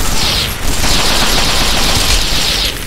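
Sustained, loud gunfire in the Fallout 3 video game, a dense continuous burst that dips briefly before roaring on, with no talk over it.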